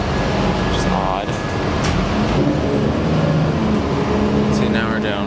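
Riding inside a moving bus: a loud, steady engine drone and road rumble fill the cabin continuously, with muffled voices faintly underneath.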